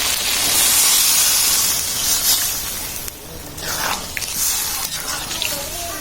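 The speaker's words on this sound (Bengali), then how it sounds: "মা এখন জল দিয়ে দিবে।" Water poured into a hot pan of taro balls in spice mixture, bursting into a loud hissing rush of steam that gradually settles into a softer bubbling sizzle, close by, with a faint voice briefly in the background.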